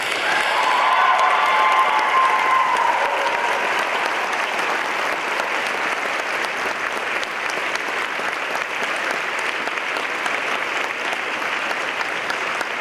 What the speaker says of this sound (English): Can we please give them one more round of applause?